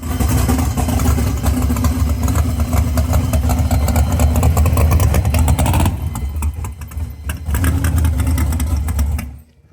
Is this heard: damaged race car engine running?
yes